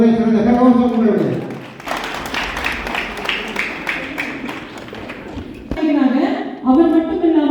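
Audience applause at an award ceremony, a burst of many hands clapping that swells for several seconds between stretches of a speaker's voice over a PA.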